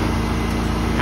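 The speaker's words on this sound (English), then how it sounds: "Honda generator going there." A Honda generator engine running steadily nearby, a loud constant droning hum with a regular low pulse, overlapped by a person talking.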